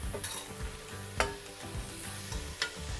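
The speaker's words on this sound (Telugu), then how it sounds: "ఇది కొంచెం టైం పడుతుంది కదా బంగాళదుంప, ఒక 5 నిమిషాలు ఇది వేయించుకుందాము" Potatoes, carrots and beans sizzle steadily in a pan for a mixed vegetable gravy curry, with a few sharp scraping stirs and utensil knocks cutting through the frying.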